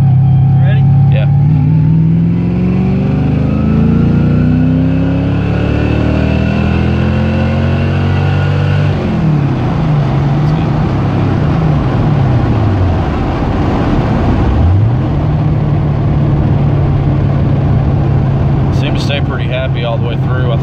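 A car engine running a Microsquirt ECU pulls hard in third gear from low RPM during street tuning, its loud droning note climbing steadily, easing briefly, then rising again as it accelerates close by.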